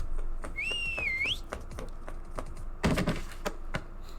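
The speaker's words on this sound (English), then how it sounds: "I'm going to leave that whistling sound to the game" A sharp, shrill whistle blast from the video game Helltaker sounds once, gliding down and back up for under a second. Scattered keyboard-like clicks and dull thunks follow it.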